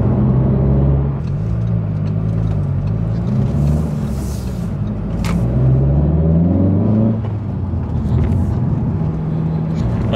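An Audi S1 in dynamic mode drives and accelerates, its engine note rising and falling through several gear changes in a loud, steady, close-up interior rumble.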